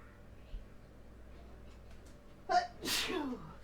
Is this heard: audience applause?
no